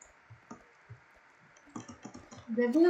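Sparse keyboard key clicks tap at an irregular pace, then a burst of faster clicking near the end rises slightly louder, with no speech.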